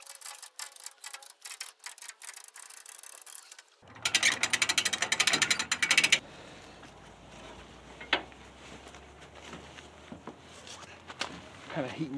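A ratchet clicks in quick bursts while tightening a part on a 1976 Ford F150, with a sharp rapid pawl rattle at first, then louder clanking and scattered mechanical knocks and shuffling.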